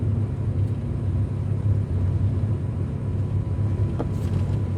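Inside a 6-liter LS V8-swapped Porsche 944 on the move, a steady deep engine and road rumble fills the cabin, loud and continuous with no talk.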